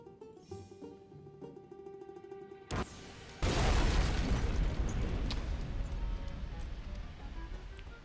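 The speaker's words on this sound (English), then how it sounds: "So this is going to blow this place up" A power station blows up in No One Lives Forever 2: a sharp pop, then a massive booming explosion that roars on as a loud, sustained rumble, following a quieter stretch of game music.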